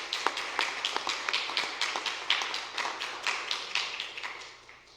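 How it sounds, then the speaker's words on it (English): Applause from a small audience at a global health education keynote, a few hands clapping unevenly and close by, steady irregular claps lasting several seconds with no voices. "I think we have to give ourselves a round of applause."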